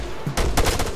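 Gunfire in the video game Arma 3, a brief burst of a few sharp rapid shots close by.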